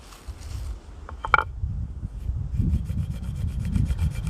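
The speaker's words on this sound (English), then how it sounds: "you can give it a good sand on whatever. Piece of stone, piece of rock." Wooden toggle being sanded by hand against a piece of stone outdoors, a steady low scraping rub that runs continuously with a brief sharper knock partway through, close and moderately loud.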